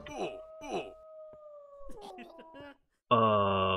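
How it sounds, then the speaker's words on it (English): A wolf in the Minecraft video game lets out long wavering howls, fairly clear and prominent, with a louder, harsher burst of game sound at the end and no talk over it. "that's a wolf. That was a wolf."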